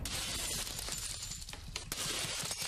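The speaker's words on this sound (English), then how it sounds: "The men set about smashing the glass cabinets." Glass display cabinets in a jewellery shop are smashed during a robbery, producing a dense, continuous crash and shatter of breaking glass with sharp bursts, fairly faint and distant, with no speech.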